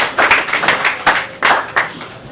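An audience at a charity gathering after a prayer claps together in a loud, near, rhythmic burst of roughly a dozen synchronized claps, with a brief break midway before the clapping resumes.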